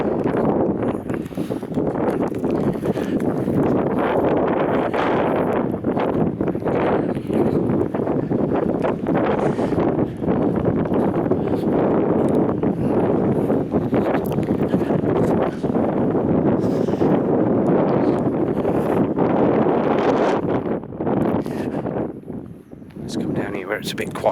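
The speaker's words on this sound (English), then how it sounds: "Let's go back round here into the wind." Strong wind buffets the microphone on an open landscape with scattered trees and bushes, a loud, unbroken roaring rumble with a voice partly buried beneath it.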